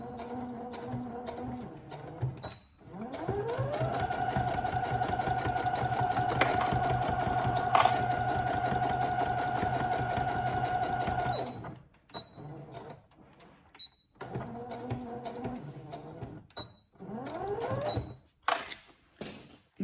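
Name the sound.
sewing machine stitching the bag's inner lining seam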